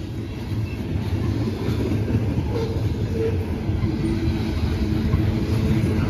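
Norfolk Southern freight train with loaded hopper cars rolling steadily past close by, a continuous heavy rumble and rail clatter throughout with no pauses.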